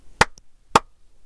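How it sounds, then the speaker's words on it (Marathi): Two sharp hand claps about half a second apart, close and crisp, separated by near silence, part of a counting song in a first-grade math lesson. "टाळ्या वाजव दोन"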